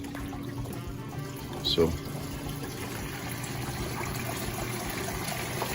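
Water trickles steadily over the edge of a tank, giving a continuous soft wash with a brief splashy burst partway through, and a voice speaks briefly over it.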